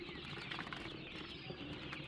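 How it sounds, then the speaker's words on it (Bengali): Quail chicks about eleven days old moving about their enclosure, a faint, continuous soft rustle and fluttering with a few quiet bird sounds mixed in. "দেখেন আমার কোয়েল পাখিগুলা"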